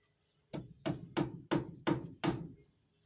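A nail hammered into wood: six evenly spaced, sharp, solid blows ring out close and loud after a brief quiet, with no voices.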